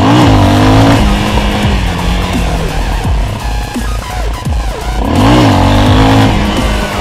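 A car's rear wheel slides out on a race track: loud engine drone with rising revs and sharp tire squeal near the start and again around five seconds, close and continuous.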